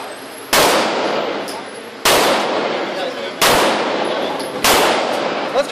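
Four loud, close gunshots from a Benelli M4 Super 90 shotgun or IMI Tavor TAR-21 rifle, each a sharp crack with a ringing tail, fired at a steady pace about a second and a half apart.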